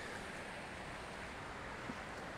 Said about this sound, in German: schaut euch mal die Strömung von diesem Wasser an